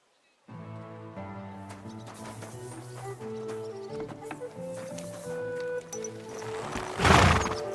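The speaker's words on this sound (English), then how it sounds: "Easy, good horse." Horse hooves and a neigh from the video game Kingdom Come Deliverance 2 sit beneath steady background music, building toward a louder, rough burst near the end.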